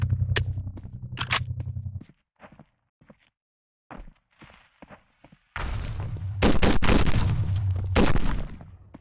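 Gunfire in a Roblox gun game rings out as sharp rapid shots in bursts, with quiet gaps between them, then a dense loud stretch of fire and thuds toward the end.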